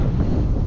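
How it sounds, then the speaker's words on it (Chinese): A loud, constant low roar of wind buffets the microphone while cycling into a southwest headwind on a road, with no voices. "今天刮的风刚好是西南风， 所以有点逆风。"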